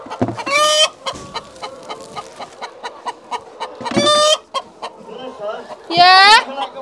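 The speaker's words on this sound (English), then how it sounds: "Noisy chicken." Broody farm chicken clucking up close: repeated short clucks with several louder, drawn-out squawks, mixed with rustling and occasional talk nearby.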